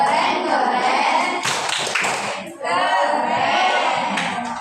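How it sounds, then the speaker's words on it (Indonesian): A group of children clapping together in a quick rhythmic pattern, chanting along loudly, with a short pause before the clapping and voices resume. "Coba kita kasih tepuk keren untuk kita semua."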